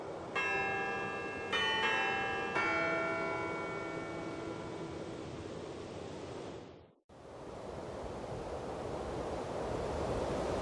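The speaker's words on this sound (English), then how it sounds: "these punch cards are for the church bells" Church bells in the Syberia video game ring several times in the first few seconds and fade into a lingering hum. After a brief cut, a steady ocean-like wash of surf and wind takes over.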